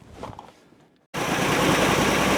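A 1964 Chevrolet Impala wagon engine, reassembled after work on it and running a bit rough, starts abruptly after a brief quiet rustle and then drones loud and steady with a close, uneven idle.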